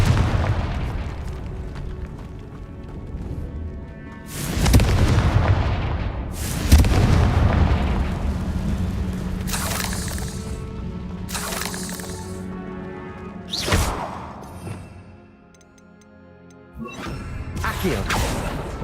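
Explosive spell blasts in the Hogwarts Legacy video game, several loud booms with crackling debris and rumbling tails, spaced between stretches of quieter game sound.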